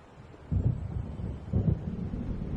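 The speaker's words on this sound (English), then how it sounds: "It seems there's a storm coming." Low rumbling thunder from an approaching storm in the video game Alan Wake, rolling in two swells under steady wind-like noise, no voices.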